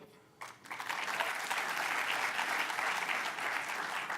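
A crowd at an annual community gathering bursts into applause after a quieter start, then keeps up a full, even clapping for several seconds.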